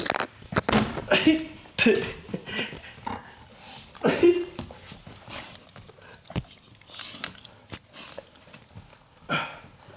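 A large dog whimpers and lets out short yips in a home workout setting, with the sounds coming in bursts mixed with a person talking nearby.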